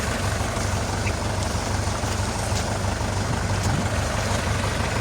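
DF 404G2 tractor engine roaring steadily under load while pulling a Scout TY404 tractor in a tug contest, a loud continuous low diesel drone with no pauses.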